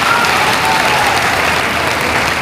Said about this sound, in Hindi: तालियां बजाकर स्वागत कीजिए।